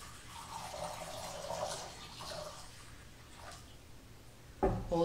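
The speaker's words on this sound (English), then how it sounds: "the pouring of the water" Water poured during a church service makes a soft, continuous trickle and splash at low volume in a quiet room, ending with a brief louder clatter.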